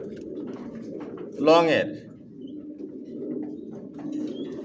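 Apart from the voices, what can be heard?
Grizzle racing pigeon cooing in a loft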